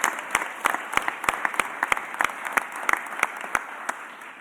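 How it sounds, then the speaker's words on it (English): Audience applause at a mayor's press conference, sparse scattered claps sounding fairly faint and distant over room noise. "So let's give all those dedicated city employees and other folks a round of applause."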